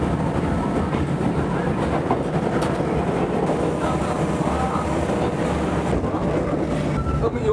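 A train rolls along the rails near Bukcheon station in Hadong, a loud, steady rumbling drone with faint rhythmic clatter heard from inside the carriage.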